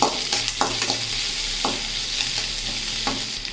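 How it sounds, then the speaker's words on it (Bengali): Chopped onions with a little salt frying in a pan, a steady soft sizzle broken by several sharp scrapes and clacks of a spatula stirring, close and alone. "পেঁয়াজটা একটু লাল করে ভেজে নেওয়া হয়ে গেছে"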